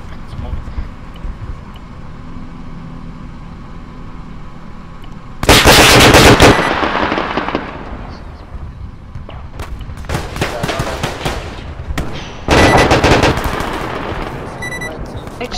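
Bursts of automatic gunfire from a vehicle's rear gun ring out in a military shooter video game, two loud sustained volleys separated by quieter stretches with scattered shots, while players talk over the radio.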